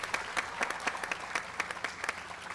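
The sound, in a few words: applause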